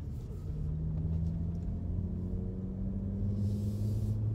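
A 2018 Audi S5 Sportback is driving on a slick road, its engine giving a steady low rumble and hum that swells slightly, heard from inside the car.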